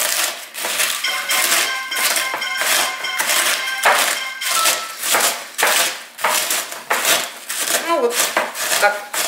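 Matzo is broken and crushed by hand for matzo brei, giving a run of loud, dry, brittle cracks and crunches in uneven bursts close to the mic.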